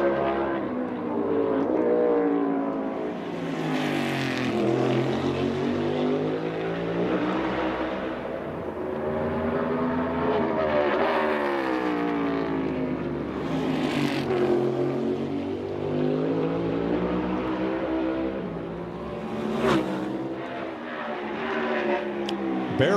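NASCAR Cup race cars lap the track during practice for the 2024 Cook Out 400, with loud engines rising and falling in pitch as cars pass and accelerate in several waves, a continuous roar throughout.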